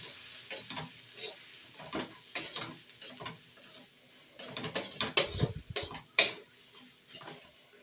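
Chili powder and spices for jeera chicken stir-fried in a pan, with repeated scraping stirs over a soft sizzle, each stroke a short clattering burst at close range, no talking.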